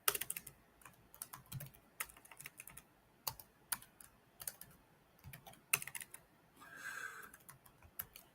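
Fingers tap on a computer keyboard in a home trading setup, irregular bursts of crisp clicks and clacks with brief pauses, close and fairly quiet, with no speech.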